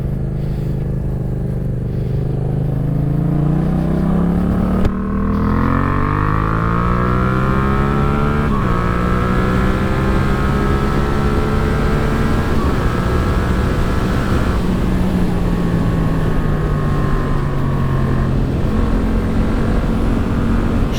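A Yamaha MT-07 A2-restricted motorcycle engine heard while riding, a loud steady drone whose pitch climbs and falls through the gears, with strong vibration in the tone and continuous wind and road rush.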